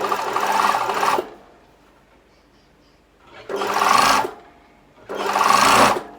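A sewing machine stitches a seam with right sides together in three bursts of rapid mechanical whirring, each lasting about a second, separated by quiet pauses.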